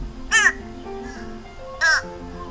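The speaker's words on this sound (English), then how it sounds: "Fish crows are a very chatty species, and often you'll get an answer" Two short, nasal caws from a fish crow, spaced about a second and a half apart, close and clear against a quiet background.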